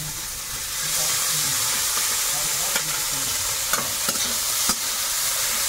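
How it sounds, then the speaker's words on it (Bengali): Chopped onion dropped into hot oil with panch phoron sizzles and crackles steadily, a loud close frying hiss with a few sharp spatter pops and stirring scrapes, no voices over it. "তেলে একটু পাঁচফোড়ন দিলাম, দিয়ে এবার পেঁয়াজ কুচিটা দেবো।"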